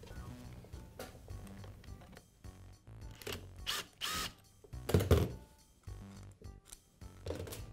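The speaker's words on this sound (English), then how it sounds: "Now remove the screw that secures the pump, gearbox, and motor assembly to the lower housing." A power driver backs a screw out of the lower housing of a Milwaukee grease gun, whirring in short close bursts broken by clunks and ratcheting clicks from the pump, gearbox and motor assembly.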